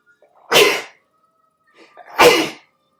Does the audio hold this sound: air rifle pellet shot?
no